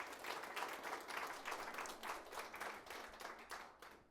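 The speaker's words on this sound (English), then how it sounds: "I think it's an applause here for Matthew." An audience at a Framtidsdagen 2024 event applauds a speaker named Matthew, a dense, continuous wash of clapping from many hands that swells and slowly fades.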